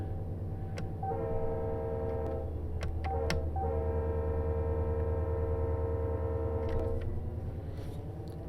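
A Union Pacific train led by two GP40 locomotives sounds its horn at a crossing near Bakersfield in the Run8 train simulator game, one long chord held about six seconds over steady low engine rumble, with a short toot beforehand.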